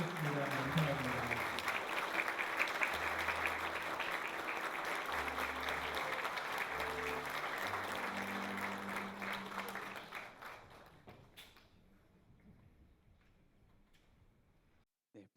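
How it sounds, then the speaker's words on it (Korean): Audience applause at a university honorary doctorate ceremony, a sustained crowd clapping with background tones underneath, tapering off after about ten seconds into near silence. "큰 박수 부탁드리겠습니다"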